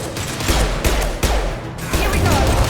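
Gunfire erupts at a checkpoint in the sci-fi shooter Mass Effect 2, with repeated sharp shots and bursts over a loud, dense battle din that continues from start to finish.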